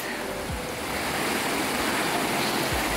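River water flowing in Coyutla, Veracruz, Mexico: a steady, broad rushing wash that holds at moderate volume throughout, with a few low thumps underneath.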